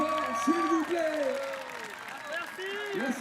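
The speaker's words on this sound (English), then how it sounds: "peut les applaudir bien fort, s'il vous plaît" Audience applause at a Japan versus Brazil final match at the World Grand Prix in France, steady clapping with some crowd noise while a voice talks over it.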